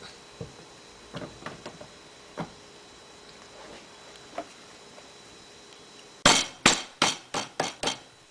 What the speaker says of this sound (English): Now go ahead and seat the gas check to the base of the bullet.